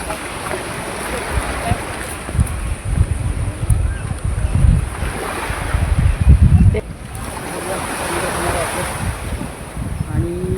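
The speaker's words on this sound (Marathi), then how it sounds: "मी समुद्रकिनाऱ्याकडे गेलो आहे मस्त समुद्रकिनारा दाखवते तुमचा तिकडे पाणी भरपूर आहे" Ocean waves wash onto a Konkan seashore near Redi village, a continuous rushing surge with buffeting wind, rising and falling over about ten seconds, with a voice faintly present.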